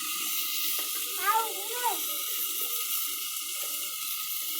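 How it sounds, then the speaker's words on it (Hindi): Water poured into a pot of browned onions over a village cooking fire, a steady hissing splash that holds for a few seconds, with a faint voice and some tonal clatter in the background. "तो ये अभी हम पानी डाल रहे हैं"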